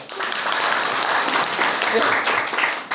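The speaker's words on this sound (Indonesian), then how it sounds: "Tepuk tangan untuk kita ya" Steady clapping from a crowd fills the whole stretch, dense and continuous, with a murmur of voices mixed in.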